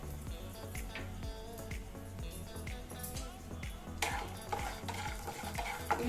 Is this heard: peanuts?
yes